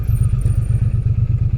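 A BSA motorcycle engine thumps with a rapid, steady low pulse while the bike filters through traffic, heard close and fairly loud over faint road noise.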